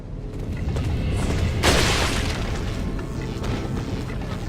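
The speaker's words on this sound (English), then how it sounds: "I feel like head explosions don't happen enough in video games." A gory head explosion in Resident Evil 4 lands as a loud, broad boom with a sharp burst at its peak, set over a steady, dense game soundtrack rumble.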